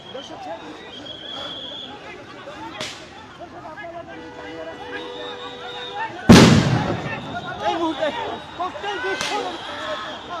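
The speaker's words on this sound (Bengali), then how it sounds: "কিছুক্ষণ পরপরই আসলে সাউন্ড গ্রেনেড নিক্ষেপ করছে পুলিশ পরিস্থিতি নিয়ন্ত্রণ আনতে।" Sound grenades thrown by police at a street protest during an engineers' march toward Jamuna in Dhaka, with one loud sharp blast and a few fainter pops amid crowd noise and talk.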